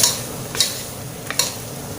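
Chicken giblets stir-fried with holy basil and a little sugar in a hot pan, a close, steady sizzle broken by a few sharp scraping strokes of the spatula against the pan, with no voices.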